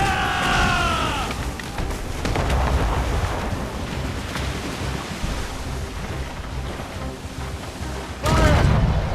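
Ship cannon fire during a naval battle in Assassin's Creed Rogue, heavy booming blasts and rumbling roar over sea and wind noise, with shouted voices at the start and end.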